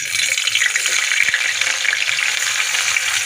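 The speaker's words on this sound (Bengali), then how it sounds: "পাতিলে তেল দিয়েছি, দিয়ে দিব পেঁয়াজ" Onion dropped into hot oil in a pot for a beef liver and chickpea dish, giving a dense, steady, close sizzle with one brief clunk.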